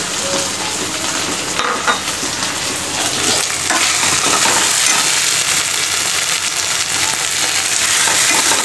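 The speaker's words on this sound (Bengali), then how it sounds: "দেখো আদা রসুনটা এরকম ভাজা ভাজা হয়ে গেল" Ginger and garlic fry in a hot pan for a khasi chicken curry, a loud, steady close-up sizzle with the scrape of stirring throughout and no talking.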